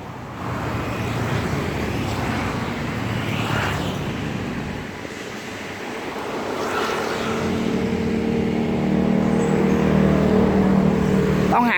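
Busy road traffic fills a street in Chiang Mai: a steady wash of engines with several louder vehicles swishing past close by, and the rumble building toward the end.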